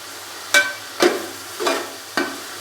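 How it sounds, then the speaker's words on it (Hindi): Chopped tomatoes frying for chicken pulao, with four spaced stirring strokes, each a sharp scrape that fades into a soft sizzle, close and clear with no talking. "टमाटर डालने के बाद थोड़ा सा इसको भून लेंगे 2 से 3 मिनट के लिए"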